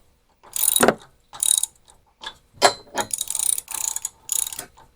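A ratchet spins cylinder head bolts down on a generator engine in quick clicking bursts, about seven short runs with brief pauses between them, close and clear with no talking.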